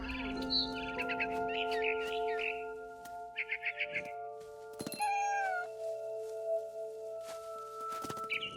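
A cat in the video game What Remains of Edith Finch gives several short meows and chirpy mews over a soft sustained musical backdrop, with a brief rustling burst midway.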